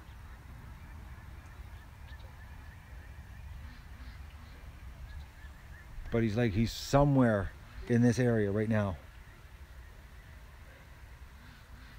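Loud, agitated honking calls from several waterfowl burst out for a few seconds, close by, after someone speaks quietly over outdoor background noise.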